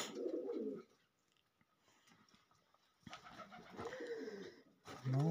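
Pigeons coo in a dovecote after winter, soft throaty calls that come in bursts with quiet gaps, close and clear, the last phrase loudest.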